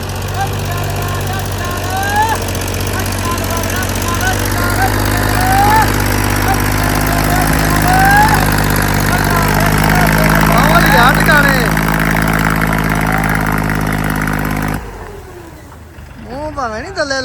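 A John Deere tractor revs hard to pull a stuck 20-foot trolley. The loud engine drones close and steady while voices shout over it, and the sound cuts off abruptly near the end.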